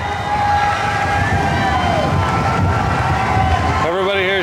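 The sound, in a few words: crowd on cruise ship deck cheering late passengers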